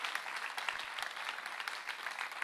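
A church congregation claps together for the Lord during a Spanish-language sermon, a dense, even wash of applause lasting the whole moment at moderate distance.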